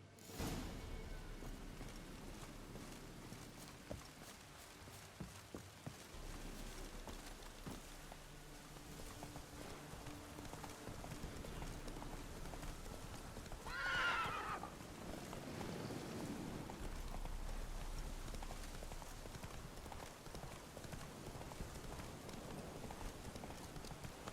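Roach, the horse in The Witcher video game, gallops with a steady, continuous clip-clop of hoofbeats, fairly quiet and close, over a soft outdoor ambient wash.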